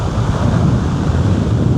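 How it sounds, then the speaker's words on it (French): Strong wind buffets the microphone on an Australian beach, a loud continuous roaring rumble mixed with surf, steady and unbroken with no talking. "il y a un vent de fou aujourd'hui"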